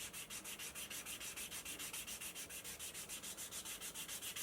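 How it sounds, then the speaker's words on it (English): Edge of a leather piece rubbed with 300 grit sandpaper, a steady run of quick back-and-forth scratchy strokes, close and even, with no voices. "There we go, a little 300 grit sandpaper."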